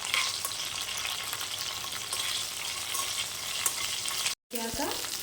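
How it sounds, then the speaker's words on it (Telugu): Green chillies sizzle and crackle steadily in a hot pan for village-style tomato chutney, a loud continuous frying hiss with a brief dropout near the end, no voices. "పచ్చిమిర్చి వేసుకుంటున్నానండి. వేసుకొని కొద్దిగా వేయించాలండి."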